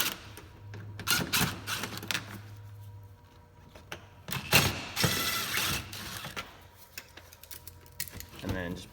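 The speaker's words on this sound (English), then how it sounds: "come around to the side of the bumper here, and we're going to take out these Phillips screws" Clicky mechanical ratcheting of a screwdriver backing Phillips screws out of the side of a 2007-2011 Honda CR-V rear bumper, in short irregular bursts, with plastic rattles and a voice speaking intermittently.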